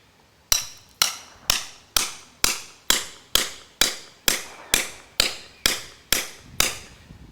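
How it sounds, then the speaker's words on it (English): A small hammer striking a Snow Peak metal tent stake into very hard ground, about a dozen sharp metallic blows at a steady, even rhythm, close and loud, with no talking. "That's only a small hammer"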